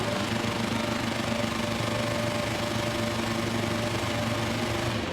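Racing car engines roar together at the start of a race after the lights go out, a steady dense mechanical drone with a constant hum that holds throughout.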